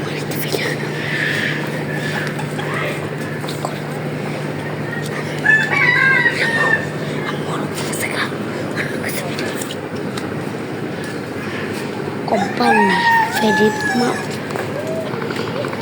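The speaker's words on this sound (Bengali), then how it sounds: "দেখছো, মোরগটা খুব সুন্দর।" A rooster crows twice, a few seconds apart, fairly close, over a steady background of outdoor noise and faint voices.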